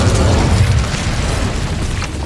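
Incendio fire spell cast in the Hogwarts Legacy game: a loud, deep whooshing burst of flame that rumbles and then fades over about two seconds.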